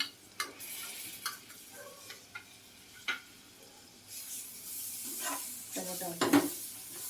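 Chopped tomato tumbles into onion frying in hot oil for a gravy, with a steady sizzle broken by scraping stirs and a louder hiss and crackle near the end as the pieces land.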